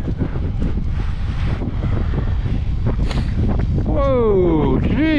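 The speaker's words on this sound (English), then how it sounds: "I was not expecting this much wind." Strong wind buffets the microphone in a continuous low roar while cycling on a Giant TCR Advanced Pro road bike in winter, and a voice exclaims near the end over the gusting.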